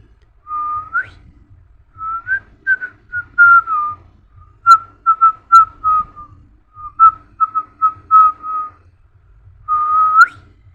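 A man whistles a tune while driving a car, a clear, close melody of short rising and falling phrases with pauses between them, with no talking.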